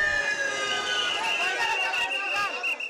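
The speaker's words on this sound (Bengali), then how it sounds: "হাসপাতালগুলোতে অ্যাম্বুলেন্সের সাইরেন" Wailing ambulance sirens at hospitals after a plane crash in Uttara, rising and falling steadily and fairly close, under crowd noise and voices.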